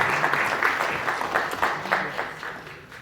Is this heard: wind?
no